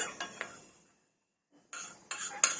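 A small spoon scoops roasted flour from a pan after the gas is turned off: a few light metallic scrapes and clinks, then a short silence, then a quick run of sharper spoon taps against the pan.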